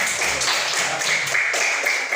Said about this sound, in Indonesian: Tepuk tangan untuk Alan